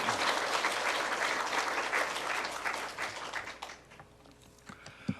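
Church congregation applauding at a Wednesday testimony service, a dense burst of clapping that holds steady, then thins and fades out over the last couple of seconds.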